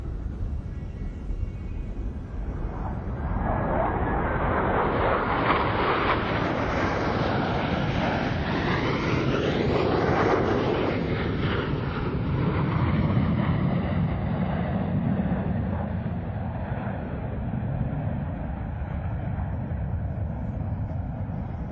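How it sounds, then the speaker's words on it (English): A pair of Blue Angels jets sweeps past the flight line at 400 mph at the Sun 'n Fun air show, their roar swelling into a broad, loud, whooshing rush and then fading slowly as they pass. "Blue Angels 5 and 6 are approaching the flight line at 400 miles per hour."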